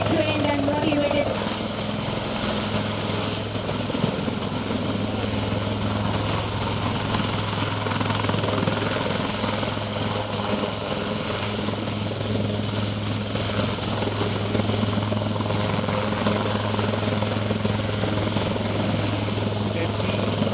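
An Indian Army advanced light helicopter at Budgam Airport, during air-landed operations, gives a loud, unbroken rotor-and-turbine drone with a high whine that holds for about twenty seconds.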